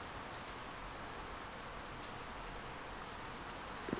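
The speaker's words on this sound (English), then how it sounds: "rain has increased, is it noisy?" Heavy rain pours steadily as a dense, even hiss with no breaks, close and fairly loud throughout, and a small knock is heard at the very end.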